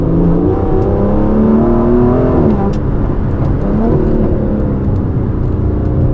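An Aston Martin DB11 V12 with 600 horsepower accelerates hard in automatic mode with traction control off, its engine note loud and close as it climbs through the revs, shifts and pulls again.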